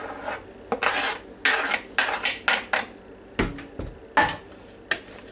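Bread and butter chips, celery and two chopped eggs being stirred together in a dish, giving a series of short scraping, clinking utensil strokes in an irregular rhythm, close and fairly quiet.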